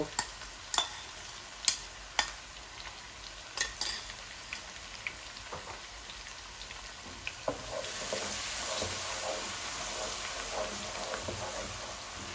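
Garlic cloves fry in oil with panch phoron spices for a Naga chilli pickle. Sharp spoon taps and stirring clicks come first, then a broader, steady sizzle swells once the garlic goes in.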